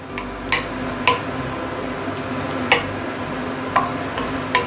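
Basil chicken with chilies is stir-fried in a pan, a soft steady sizzle running underneath while a spatula scrapes and clatters against the metal in sharp, irregular strokes, five or six knocks spaced across the span.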